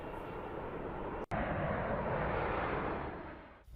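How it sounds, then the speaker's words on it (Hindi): Steady, loud broadband roar of a C-17 Globemaster military transport aircraft in flight, a continuous engine rumble broken by one very brief dropout, then fading slightly near the end; no voices. "C-17 ग्लोबमास्टर की उड़ान देखने को मिली है"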